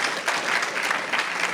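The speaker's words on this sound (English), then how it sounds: "Can we have another round of applause" A short burst of audience applause for authors Elissa Altman and David Hilliard after a reading and artist talk, brisk continuous clapping throughout.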